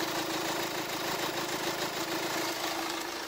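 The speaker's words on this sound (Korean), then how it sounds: "엔진 소음 먼저 들려드리면은" A Hyundai Tucson ix diesel engine idles steadily, giving a continuous close, fairly loud rumble with a constant hum and a faint rhythmic knock, heard alone without talk.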